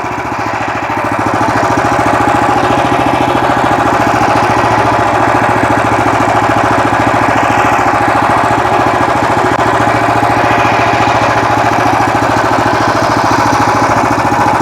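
A Weima Deluxe WM1100FE-6 walk-behind tractor's engine runs close by in reverse gear, a loud, steady, rapid diesel-like chugging and knocking that holds even throughout, with no talking.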